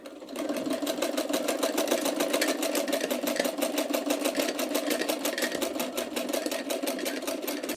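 A sewing machine stitches blouse fabric in one steady, continuous run, its rapid even needle rhythm close and clear from start to finish with no talk.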